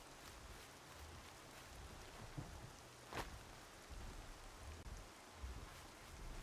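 Steady rain falls in the Horizon Zero Dawn DLC, a faint, even hiss of downpour with a few soft splashes and one brief sharper crackle midway.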